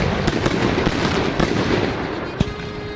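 A trophy cannon firework fires a rapid series of sharp, loud reports, several bursts in quick succession over a dense crackling wash, ending with a final distinct bang.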